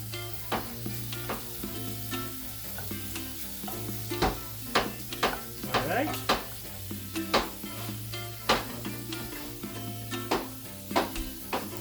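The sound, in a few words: frying ingredients sizzling in a hot pan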